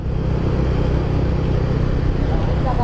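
Motorcycle with an aftermarket CB exhaust on a highway ride, a loud continuous low engine rumble with steady revving throughout.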